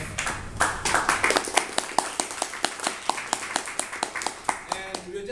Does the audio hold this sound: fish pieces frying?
no